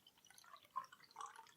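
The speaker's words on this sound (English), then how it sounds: "Pouring gently, of course, just so as to leave some sediment." Bottle-conditioned best bitter poured gently from a bottle into a glass, giving soft, faint trickling and dripping liquid sounds with a couple of brief splashy bursts, with no talking.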